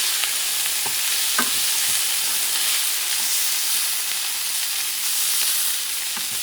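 Liver pieces shifted around a hot frying pan for liver with onions, a loud continuous sizzle broken by light scraping and stirring clicks.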